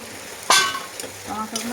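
Tomatoes dropped into hot oil left from frying fish for a spicy fish curry with pumpkin flowers, giving a sudden loud sizzle burst that settles into steady crackling frying, with a second flare near the end.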